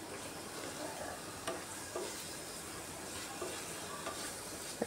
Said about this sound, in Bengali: আলুগুলা দিয়েও মশলার সাথে একটু মিশিয়ে নিচ্ছি।